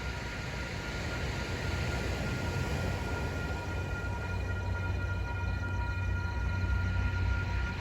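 Metrolink 608 pulling into San Clemente station, a steady low rumble and broad rail noise with faint thin squealing tones, continuous and fairly distant throughout.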